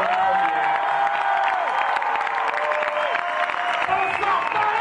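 An audience at a Paris film premiere of Babysitting claps steadily and loudly from beginning to end, with some scattered cheering mixed in. The applause fills the room and nobody speaks over it.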